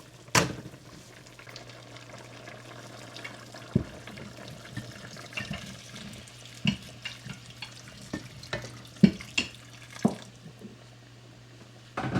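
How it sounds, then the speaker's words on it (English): A low steady hiss runs beneath scattered drips, taps and small splashes as water goes into a simmering pot of duck curry, with a few sharper knocks along the way. "We're gonna add a little bit of water just now."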